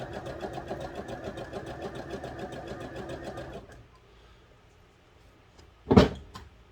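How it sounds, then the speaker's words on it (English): A sewing machine top-stitches wrestling tights fabric with clear nylon thread, running in a fast, even needle rhythm for several seconds before stopping, followed by a single loud clack. "let your machine do the work and pull the fabric through for you"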